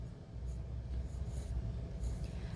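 Pencil on paper sketches a cartoon eye, soft scratchy strokes rising and falling in short quiet bursts, close and faint.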